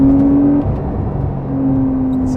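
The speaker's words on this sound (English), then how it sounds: "It's a very fast car, and this gearbox, it's wonderful." Engine of a 2020 Porsche 911 Carrera 4 (992) while driving, a steady close drone with a brief dip and shift in pitch midway, then holding steady again.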